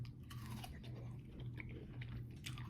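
Someone chews pieces of cantaloupe, soft wet crunching and biting sounds repeating close up in a quiet room.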